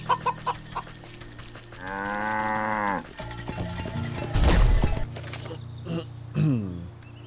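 A cow in the video game Wytchwood gives a single drawn-out moo of about a second, fairly close and clear over a soft game ambience, followed later by a brief louder noise.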